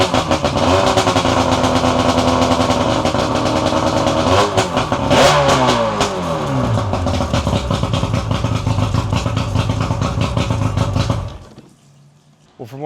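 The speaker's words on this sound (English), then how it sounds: "this engine's sounding really good. She's sounding pretty mean, like she's ready for the water." Boat engine running after a rebuild, cowling and side panels fitted, a loud rough idle broken by repeated throttle blips and a long rising rev, then a sudden cutoff near the end.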